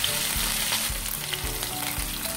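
Green chilies fry in hot oil in a pan for a restaurant-style Mysore masala dosa, with a constant close sizzle and a few dull knocks from stirring.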